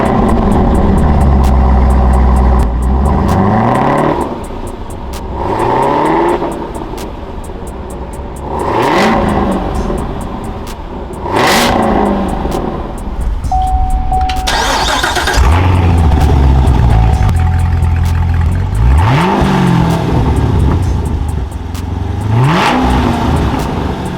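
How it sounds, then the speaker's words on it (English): A 2019 Corvette Z06 or 2020 Camaro ZL1 sports car exhaust revs again and again, loud and close, with repeated sweeping climbs and falls and a steady idle between them. "let's do an exhaust clip on both cars and see what you guys like"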